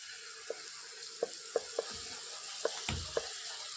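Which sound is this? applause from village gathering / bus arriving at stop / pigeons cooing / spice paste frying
spice paste frying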